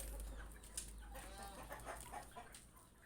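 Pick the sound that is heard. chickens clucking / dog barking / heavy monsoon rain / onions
chickens clucking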